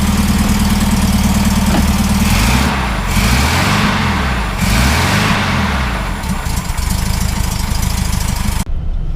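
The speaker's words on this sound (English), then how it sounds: "So we're coming home with a 1600 dual port now. Single carburetor, nice and simple. He ran it. Sounds beautiful." A 1600 dual-port engine with a single carburetor runs close by, holding a steady, loud idle with a few mild swells in speed before cutting off abruptly near the end.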